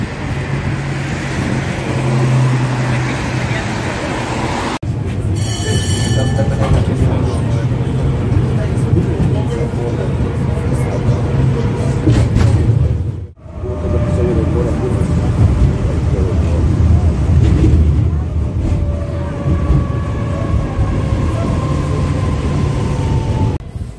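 A train station in Belgrade, Serbia, during construction work gives off a loud, continuous rumble of rail and road traffic, with faint whining tones that drift in and out and a brief dropout partway through.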